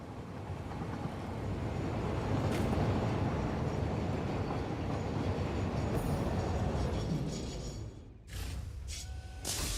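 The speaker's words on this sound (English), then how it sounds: "we can take the train back." A train in the video game Satisfactory rumbles steadily at close range, a loud continuous rolling roar that drops away near the end before brief mechanical tones.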